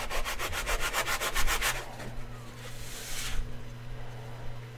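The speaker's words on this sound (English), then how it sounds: "I actually want to make sure I'm sanding the right side of this." Close, rhythmic rasping strokes of sandpaper rubbing on wooden popsicle sticks, fast back-and-forth passes that slow into longer scrapes.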